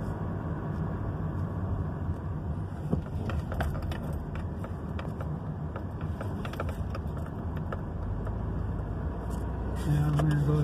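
A car pulls away after being shifted from neutral into drive, its engine and road noise a steady low rumble throughout, with faint cabin clicks and a slight rise in engine sound near the end.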